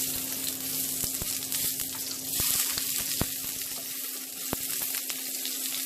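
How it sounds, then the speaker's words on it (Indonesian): Garlic dropped into hot oil, frying for an Indonesian beef soto, sizzling steadily with occasional clicks and taps of a utensil against the pan. "Panas, aku masukkan bawang putihnya."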